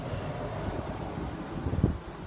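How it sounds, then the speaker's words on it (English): Gusty wind blowing outdoors on a road trip, a steady low rumble of wind buffeting the microphone with a brief stronger gust near the end. "bit windy. Wind's blowing."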